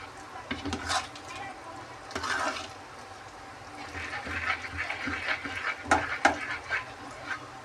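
A spoon mashes and scrapes dal with greens in a metal pot, giving uneven bursts of wet squelching and clinking against the sides, close and moderately loud, with short pauses between strokes.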